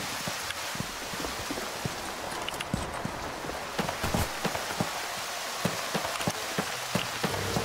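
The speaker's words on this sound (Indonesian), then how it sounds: "Hujan, coy." Rain in the video game Left 4 Dead 2, a steady dense patter of drops with scattered sharper splats, even and continuous at a moderate level with no talk.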